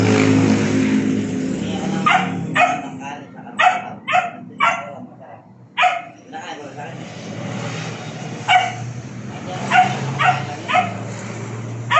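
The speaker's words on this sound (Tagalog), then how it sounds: "Pero yung aso mo na yan, di na, mukhang hindi napapabayaan ah." A dog outside a junkshop gives several short, sharp barks in bursts, partly mixed with people talking and traffic-like rumble in the background.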